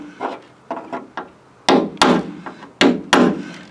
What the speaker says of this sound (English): So I just take my little cold chisel here,